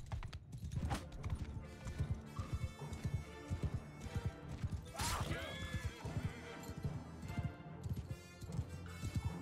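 Cavalry horses charging in a Mount and Blade 2 Bannerlord battle: dense, rapid hoofbeats pound continuously alongside repeated loud neighs and whinnies, with battle clatter and a player's voice intermittently over the din.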